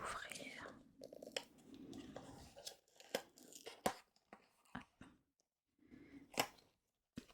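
A sealed Christmas gift box is opened by pulling a tab, producing close crinkling and tearing with scattered clicks and handling noises, while a soft voice whispers throughout.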